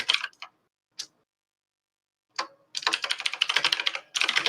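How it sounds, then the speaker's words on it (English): Computer keyboard typing picked up loudly by a microphone: a few isolated clacks, then a dense, rapid burst of keystrokes, a pause, and more fast typing, close and sharp. "I'm not sure if it's typing, but like it's like really loud over the microphone"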